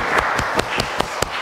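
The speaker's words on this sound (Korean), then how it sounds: "박수 쳐주세요." An audience at a church New Year's Eve service in Paris applauds: a steady wash of clapping with a few sharper individual claps standing out at a regular beat, close and fairly loud, with no talking.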